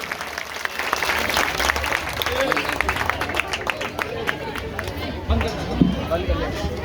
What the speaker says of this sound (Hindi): एक बार जोरदार तालियां हो जाएंगी बच्चों की शानदार प्रस्तुति के लिए।